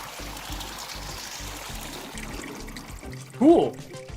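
Water pours into a teapot in the cozy game Wanderstop, a steady running trickle with a brief louder splash near the end.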